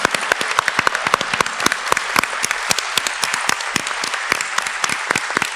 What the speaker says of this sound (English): can we just give a big round of applause to the support staff for Seaview.